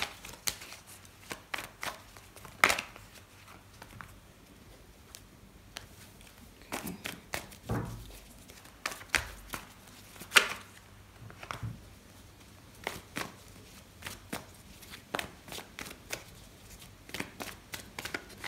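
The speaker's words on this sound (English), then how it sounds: "Shuffle." Tarot cards are shuffled by hand in irregular bursts of soft riffling and tapping, close up and quiet, with pauses between handfuls and no talking.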